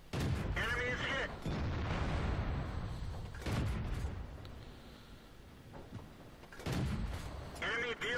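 Tank cannon shots boom from a Matilda IV in World of Tanks on the Murovanka map, two heavy blasts spaced a few seconds apart, each followed by rumbling decay, with game sounds and faint voice audio around them.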